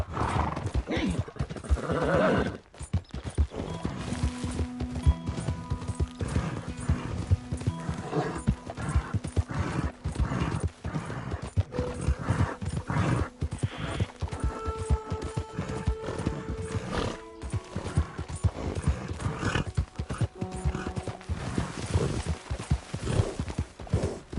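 A horse in the Red Dead Redemption 2 video game whinnies and neighs while its hooves clip-clop steadily, with voices speaking at times over the animal sounds.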